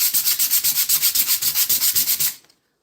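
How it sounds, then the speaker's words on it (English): Cast iron being sanded with fine-grit sandpaper, a loud, close rhythmic rasp of regular back-and-forth strokes that stops abruptly near the end. "you can use a finer grit sandpaper"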